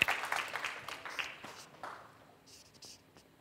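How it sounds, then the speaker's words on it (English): Scattered applause rises from a summit audience, a few quick claps that start fairly close and then thin out and fade into quiet within a couple of seconds. "Let's give them a round of applause"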